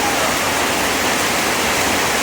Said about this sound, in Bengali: টিনের চালে যে শব্দটা বৃষ্টির শব্দ